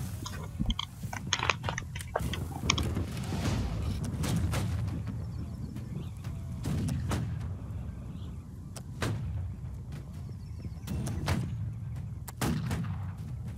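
Muskets crack one after another in a Holdfast: Nations At War army siege with British riflemen. Some shots are close and sharp, others more distant, scattered irregularly over a steady battlefield din.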